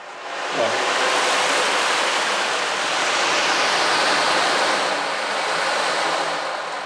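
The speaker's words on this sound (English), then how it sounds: "the more of the balls you get involved, the bigger you can create the waves" A Remo ocean drum played by rolling many balls across its head gives a loud, sustained wash like surf, swelling and easing gently with no breaks and no talking.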